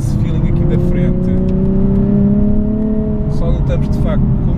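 A Nissan 370Z NISMO's naturally aspirated V6 pulls steadily while driving, a loud continuous in-cabin engine drone with rising tones, and someone talks over it throughout.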